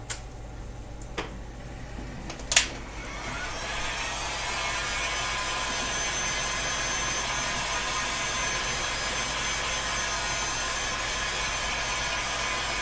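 A heat gun blowing hot air onto InstaMorph plastic, starting after a few faint clicks and a sharp tap, then a steady breathy roar that holds evenly to the end.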